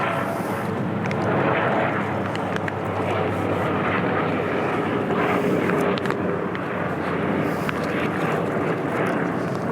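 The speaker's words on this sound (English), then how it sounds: "we can hear a helicopter flying over" A helicopter passes over a rooftop garden, a broad, continuous rumbling drone at moderate distance that holds steady for about ten seconds with faint outdoor ambience beneath.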